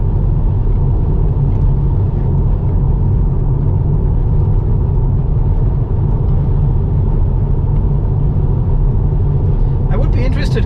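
Tesla Model 3 rolling downhill on a bumpy road, giving a steady, loud low road rumble and tyre noise throughout, with the car coasting and a person talking over it.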